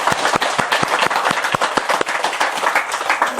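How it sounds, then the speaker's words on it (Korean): Listeners at a Buddhist lecture clap together, a close, moderately loud applause with sharp individual hand claps standing out from the crowd. "박수 한번 쳐드리자고요"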